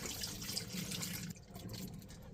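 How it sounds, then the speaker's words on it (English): Leftover liquid poured down the drains of an RV being winterized, a steady splashing gush that shifts tone partway through, close and moderately quiet. "the little extra that we have in here, we're just going to pour down the drains"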